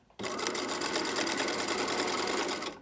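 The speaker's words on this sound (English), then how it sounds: "I'm going to sew over" A sewing machine stitching binding onto a swimsuit starts abruptly and runs steadily at close range with a fast, even mechanical rattle until it winds down at the end.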